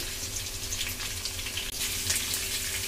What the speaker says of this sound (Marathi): हे बघा आता मिरच्या घातल्यात. आता थोडं फ्राय झालं की मग शेंगदाणे घालायचे.